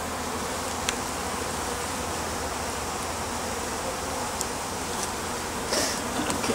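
A dense swarm of honey bees buzzes around a hive, a loud, continuous drone filling the air close by, with a few brief louder passes near the end and no talking.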